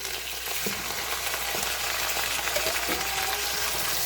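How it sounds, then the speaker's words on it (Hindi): Chicken pieces fry over full flame with already fried onions in a pan for Sindhi biryani, giving a loud, steady sizzle with occasional stirring scrapes and no voices. "अब इसमें मैं चिकन ऐड कर रही हूँ।"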